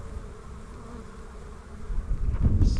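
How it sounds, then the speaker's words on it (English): Dense buzzing of many honey bees flying back to their hive nearby, a continuous swarm drone that grows louder toward the end. "The sky is just filled with bees coming back."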